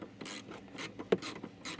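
T40 Torx bit turning a plastic set screw on a 2024 Jeep Wrangler, a quick series of close ratcheting clicks in short bursts with one sharper click, no talking.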